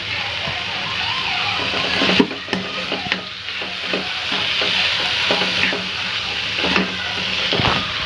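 Spiced potato filling for vada pav being stirred in a pan, with dull scrapes and occasional clacks over a continuous soft sizzle, nearby and unaccompanied by talk.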